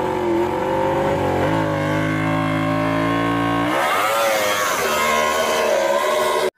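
Toy racing motorbike, a number 93 Marquez model, gives a loud, continuous revving engine whine with rising and falling pitch, shifting character partway through and cutting off abruptly at the end.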